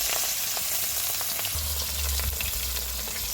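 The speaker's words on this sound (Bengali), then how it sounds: "কড়াইতে তেল গরম হয়ে গেছে কাতলা মাছটা ভেজে নেব" Catla fish sizzles loudly in hot oil in a wok, a dense continuous crackle with scattered spits and pops, close up and without voices.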